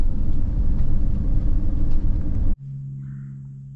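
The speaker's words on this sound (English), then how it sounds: "Taking a drive down one of the roads in the Wildlife Refuge" A car driving down Swamp Trail Drive in the Okefenokee Wildlife Refuge, a loud, steady low rumble of road and engine noise that cuts off abruptly, leaving a faint hum.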